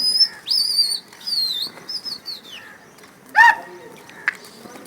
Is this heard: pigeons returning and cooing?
yes